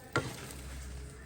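Ingredients roasting in a pan give a faint, soft sizzle, opening with a quick scraping stir near the start before settling into a low, steady crackle.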